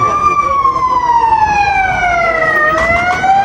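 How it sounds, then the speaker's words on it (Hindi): An ambulance siren in Copenhagen wails loudly and close, a long tone sweeping slowly downward against the rumble of street traffic. "एम्बुलेंस"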